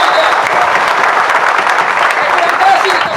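Congregation at a prison worship service applauding steadily, a dense, continuous wash of clapping from many people filling the room, with voices mixed in.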